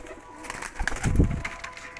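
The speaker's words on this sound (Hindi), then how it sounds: "ये आगे चेक करें कबूतर, ये कबूतरी चेक करें" Pigeons coo in a low, throaty murmur, a soft burst swelling near the middle among birds kept for breeding in Lahore, Pakistan, with faint chirpy background noise and no talking.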